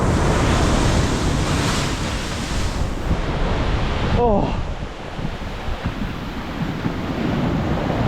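Heavy, rough surf crashes and rolls onto a beach with a strong, sketchy current, making a continuous loud roar mixed with wind buffeting. A single brief exclamation is heard partway through.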